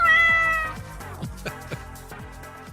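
In a comedy sketch, a cat gives a long, loud meow and then several shorter, fainter mewing calls in quick succession, close and with no talk over it.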